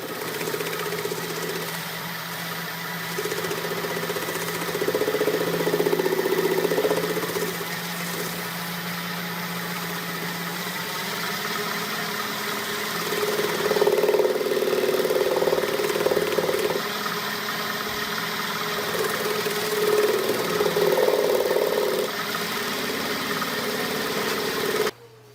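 A wood lathe hums steadily as it spins a finished wooden bowl for buffing, a sustained motor drone that swells louder in stretches as pressure is applied, continuing alone for about twenty-five seconds before cutting off.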